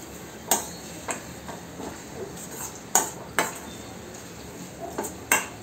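Tomatoes and eggplant mashed together in a pan for baingan bharta, with sharp metal spoon-on-pan clacks at irregular intervals over a faint background hiss, close and without talk.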